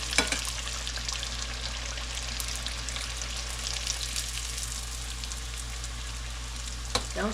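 A tortilla frying in hot oil as it becomes a taco shell, giving a steady, close, continuous sizzle with a few brief clinks and splashes of stirring or handling.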